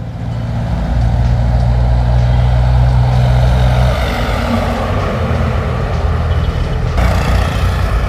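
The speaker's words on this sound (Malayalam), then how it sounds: "റോങ് സൈഡായിട്ടും വണ്ടികളൊക്കെ വരുന്നുണ്ട് കേട്ടോ." Vehicles pass along a service road beside NH66 roadworks, a steady loud rumble of engines and tyres that swells and carries on throughout, close by, with no voices.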